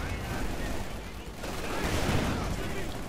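Machine gun fire and battle din in the video game Company of Heroes 2, a dense continuous rattle of bursts and explosions, loud and unbroken for a few seconds.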